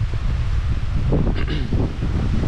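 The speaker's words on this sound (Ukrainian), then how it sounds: "Так, посилюється вітер." Strong wind from Hurricane Ian in Florida roars and buffets steadily, with gusty rushing noise and some rustling of leaves throughout, loud and close.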